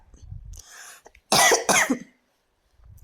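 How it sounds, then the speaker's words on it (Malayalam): Two sharp, loud coughs in quick succession, surrounded by quieter background noise and faint rustling. "ചുമക്കുകയാണ് കേട്ടോ ഫ്രണ്ട്സ് ഭയങ്കര ഇടങ്ങേറ്"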